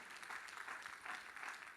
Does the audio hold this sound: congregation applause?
yes